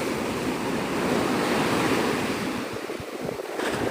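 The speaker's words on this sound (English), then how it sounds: "That's why it's so windy here right now." Strong wind and crashing surf at Navarre Beach as outer storm bands skirt the coast, a steady, loud roar of waves and gusting wind buffeting the microphone with no voices.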